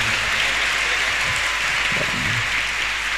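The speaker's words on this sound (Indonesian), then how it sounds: "beri tepuk tangan untuk pemateri kita pada siang hari ini" Applause from a seminar audience honoring the speaker at an Islamic history talk: a continuous, even hiss of many people clapping, fairly loud and unbroken throughout.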